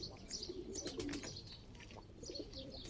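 Pigeons in a loft give soft, low coos in short repeated phrases, with light rustling and faint chirps mixed in, quiet and close.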